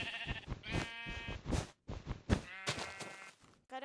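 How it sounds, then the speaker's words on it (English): Sheep in a video game bleat loudly and repeatedly, several overlapping calls in quick succession with brief gaps between them and no talking. "Sorry about the sheeps. They're loud."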